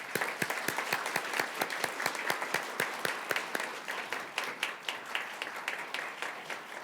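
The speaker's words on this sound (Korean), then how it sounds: "큰 박수로 맞이해" Audience applause at a law school courtroom advocacy competition's closing and award ceremony, a steady run of many hands clapping with sharp, dense claps that thin out gradually toward the end, with no talking.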